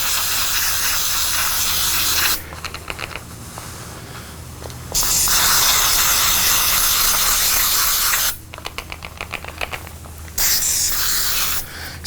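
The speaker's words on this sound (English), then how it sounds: "Let's just kind of spray these guys down and let it soak in this." Chain lube sprayed from an aerosol can onto Atari Quantum arcade game parts, heard as three long, loud, close hissing bursts separated by pauses filled with light clicks and handling noises.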